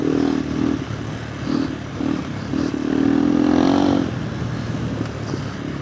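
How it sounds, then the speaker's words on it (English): KTM 390 Adventure R motorcycle fitted with a Norifumi Whoops exhaust, its engine note droning steadily and swelling in a couple of rising surges, loud and close with some wind and clatter, no voices. "Man, the exhaust is sounding awesome."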